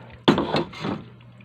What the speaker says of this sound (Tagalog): Dinagdagan ko guys ng tubig kasi kulang yung hugas bigas ko.